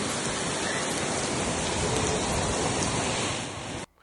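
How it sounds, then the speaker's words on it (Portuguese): Heavy storm rain in Brasnorte, Mato Grosso, pours down as a loud, continuous hiss of drops on surfaces and cuts off abruptly at the end. "lá em Brasnorte teve uma chuva intensa, acompanhada de uma tempestade."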